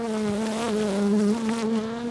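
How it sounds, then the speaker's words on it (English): Steady, close buzzing of honeybees in a bee yard during a hive inspection, a loud droning hum with slight wavering in pitch and no talk over it. "I'm seeing nothing so far, except bees."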